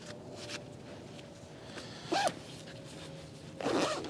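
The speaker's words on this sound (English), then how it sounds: "You can just start pulling the zipper down." Zipper on a PatioGem patio umbrella cover pulled down in two short, rasping strokes, the first brief and the second a bit longer, close by and fairly quiet against a faint steady background hum.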